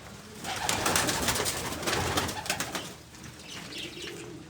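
Pigeons kept in a loft in winter, soft cooing mixed with wing flutters and rustling movement, fairly close but quiet, with no talking.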